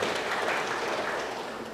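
Congregation clapping in a church service, a steady dense patter of many hands held at an even level throughout, with no voices on top.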